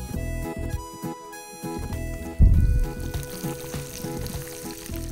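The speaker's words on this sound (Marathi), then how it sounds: "आता ह्यामध्ये आपण टाकणार आहोत अख्खा कांदा" A whole onion drops into hot oil in a pan for restaurant-style gravy, setting off a sudden loud sizzle midway that stays steady and crackling, with metallic clinks and some music before it.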